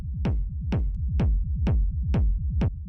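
Techno kick and rolling rumble glued together with hard compression: six punchy, evenly spaced kicks with a deep, continuous low rumble pulsing between them, loud and up front, without any talking.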